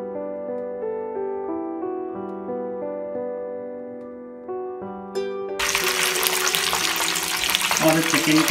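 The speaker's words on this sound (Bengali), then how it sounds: "আমাদের চিকেনটা প্রায় ভাজি হয়ে গিয়েছে" Chicken katsu frying in a pan, with steady tonal hum for the first five seconds, then a loud, dense, broadband sizzle of hot oil that fills the rest of the clip; no talk.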